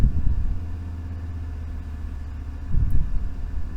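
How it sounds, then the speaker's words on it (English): Pickup truck engine started and idling outside, a steady low rumble heard at a distance from indoors, swelling briefly louder near the end. "My brother just fired up his truck outside. Definitely a loud one."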